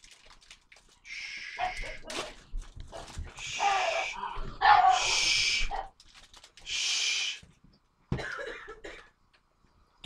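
Household dogs bark in repeated rough bursts, fairly close, with gaps between them. Coughing or throat-clearing sounds are mixed in at points.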